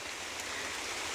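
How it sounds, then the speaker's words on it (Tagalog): Rain falls steadily on a cacao farm as a continuous, even hiss of drops with no pauses and no voices. "as what you can see, umuulan na"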